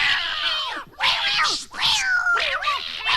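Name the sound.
cats screaming and yowling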